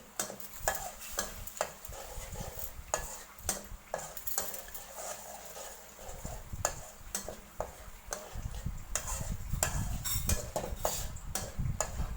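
Chili curry paste for an old-style Thai green curry with lotus stems and steamed mackerel stir-fried in a pan. A spatula scrapes and knocks in steady repeated strokes over a soft sizzle, close and with no talking.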